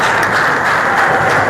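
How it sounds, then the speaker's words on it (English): Steady, dense clapping from an audience at an evening school event, a continuous even roar of hands with no pauses, loud and close. "So clap on yourselves."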